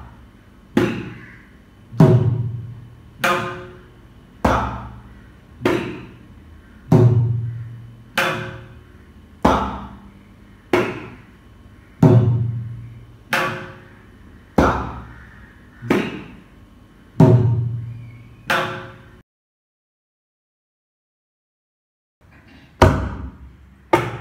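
Mridangam basic strokes from a first lesson, played as a steady series of about seventeen sharp, resonant drum hits with ringing decay, then a pause and a couple more strokes; close and clear, no talking.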